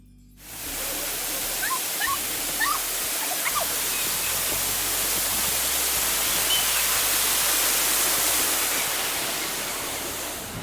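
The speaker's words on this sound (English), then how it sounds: "honestly, the waterfall, breathtaking" Waterfall in a park in Nice, France, a steady broadband rush of falling water that holds evenly and fairly loud throughout, with a few faint chirps and background sounds over it.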